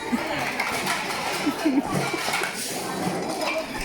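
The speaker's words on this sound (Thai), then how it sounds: "โยมก็จะมาช่วยกันล้าง ถ้วยล้างจานแบบนี้นะครับ" Cups and dishes are washed by hand at a temple, with scattered clinks and clatters of crockery and cutlery under voices and chatter nearby.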